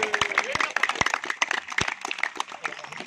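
Scattered hand clapping from a community gathering at a neighbourhood Independence Day celebration, sharp irregular claps fairly near, mixed with crowd chatter and a voice.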